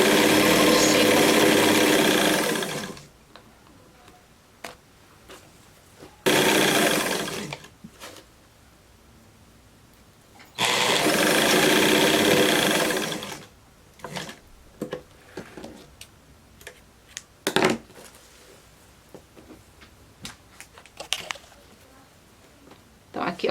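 Sewing machine running a zigzag stitch on fabric for a blouse, loud steady whirring bursts of a few seconds each, three runs separated by pauses filled with soft handling clicks and a voice talking.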